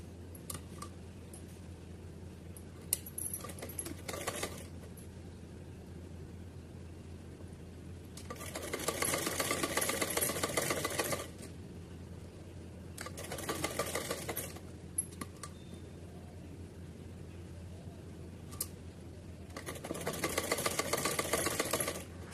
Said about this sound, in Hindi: तो यहाँ इसको भी हम ऐसे पूरे पे सिल के कंप्लीट करते हैं।